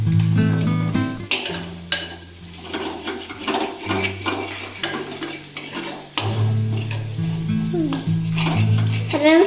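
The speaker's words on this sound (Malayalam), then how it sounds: "മുളക് പൊടിയും മഞ്ഞപ്പൊടിയൊക്കെ നന്നായിട്ട് പൊരിയിക്കണം" Chili powder and turmeric powder frying in a pan for a vegetable dish give a steady, close sizzle with stirring scrapes throughout, under tonal background music.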